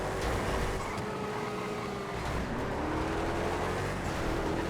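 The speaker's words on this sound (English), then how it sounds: "The Regina 6x6 always feels and sounds faster than it is" Regina 6x6 car engine droning steadily in a GTA FiveM racing game, a continuous loud mid-pitched hum with rising tonal whine as it accelerates.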